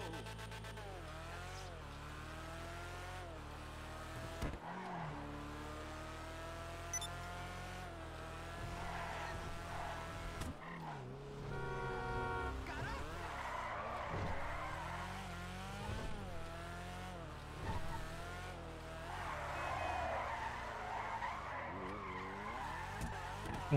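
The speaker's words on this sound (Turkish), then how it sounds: "Muhteşem kayıyor araba, bebek gibi ya." A drift car in GTA Online skids steadily through corners, tires squealing in long sweeps over a continuous engine drone, with repeated revving and sliding bursts and no talk.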